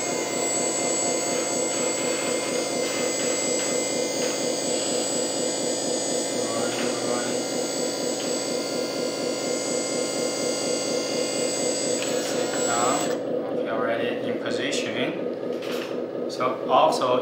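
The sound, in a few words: RC hydraulic dumper truck motor lowering the dump bed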